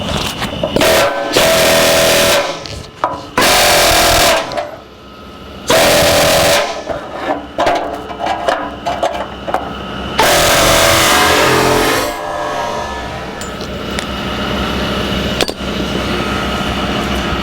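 Loud, harsh metalwork on a rusty 1949 Chevrolet gasser frame rail as the last spot weld is cut free: several long, piercing bursts of grinding or cutting separated by short gaps, ending in a sustained rough whine.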